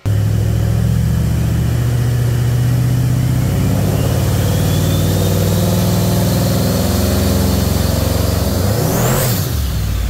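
A car with an 8HP gearbox runs through a transbrake test, its engine held at steady revs in a loud continuous drone, then the pitch shifts and sweeps near the end as the revs change.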